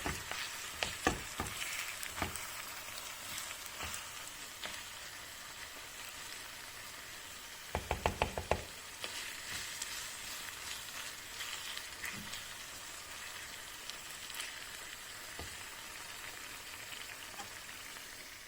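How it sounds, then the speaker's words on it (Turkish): Minced meat with a spoonful of tomato paste frying in a pan, a soft continuous sizzle with occasional stirring clatters and a brief burst of scraping midway, faint and steady, no talking. "Bir tatlı kaşığı kadar salçamız Biraz da salçasıyla kavrulacak."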